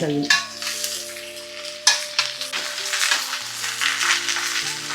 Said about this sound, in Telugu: బాగా కింద మీద నుంచి పైన బాగా కలుపుకొని